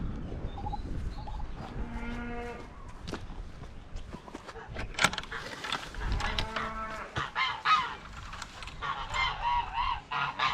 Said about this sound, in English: There's a lot of shouting and yelling going on in the goose pen